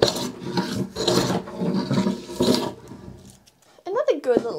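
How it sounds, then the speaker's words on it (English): Stanley No. 62 low angle hand plane planing a wooden workbench, with several rasping strokes in a row, close and fairly loud, followed by a short voice. "when you don't mind being rather aggressive when you're planing, is to actually go crossways"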